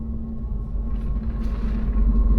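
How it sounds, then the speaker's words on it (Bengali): An empty freight train passes near the Galudih dam at Ghatshila with a loud, steady low rumble and a droning hum that swells slightly toward the end. "খালি মালগাড়ি যাচ্ছে।"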